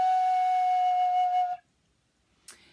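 A toot, a simple flute, holds one clear, steady note for about a second and a half, then stops, followed by a short soft breathy noise.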